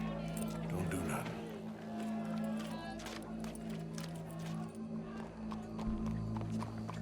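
Horse hooves clip-clop on a dirt street in Red Dead Redemption 2, a steady walking rhythm close by, under a droning game score and background crowd murmur.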